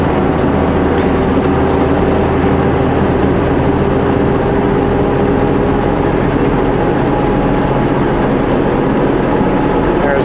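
A heavily loaded truck grinds up a steep mountain highway grade on the Coquihalla in third gear with a manual transmission, a steady loud engine drone and road roar filling the cab throughout.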